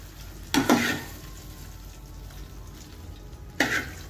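Boondi tipped into a pan of payasam and stirred, giving two short bursts of sizzling, scraping sound a few seconds apart with quiet pan hiss between.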